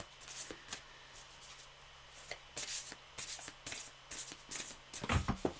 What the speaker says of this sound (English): Oops, that was my shuffling.